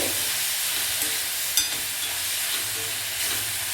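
Onion and tomato fry in a pan for a lady finger fry, giving a steady, even sizzle and hiss with one faint clink partway through and no talking.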